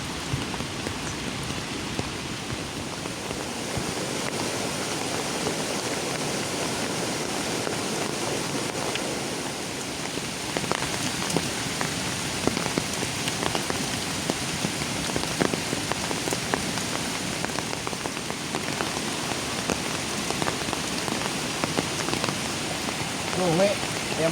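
Steady rain falls outdoors, a dense continuous patter on surfaces with scattered heavier drops, close and even throughout, with faint voices now and then beneath it.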